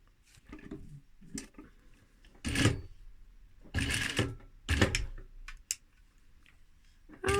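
Industrial sewing machine fitted with a Teflon foot stitching through 2mm leather, heard as several separate bursts of mechanical running with short clicks and pauses between, close and fairly loud, no talk.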